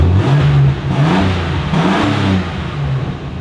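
Street bike engine on an XG build revving up loud and close, with a rough mid-pitched roar that rises and falls through a few blips and no talking.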